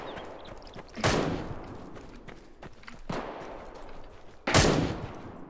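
Gunfire in the online survival shooter Deadside: a few sharp, loud single shots spaced seconds apart, with faint background noise between them and no talking.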